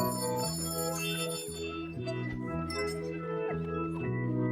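A bright bell rings repeatedly in a steady, evenly spaced pattern of ringing tones, each decaying briefly before the next, clear and moderately loud with no voices over it.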